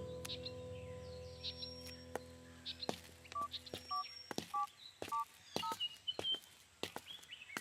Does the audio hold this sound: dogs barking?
no